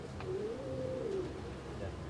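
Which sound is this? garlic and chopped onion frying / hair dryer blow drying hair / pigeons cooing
pigeons cooing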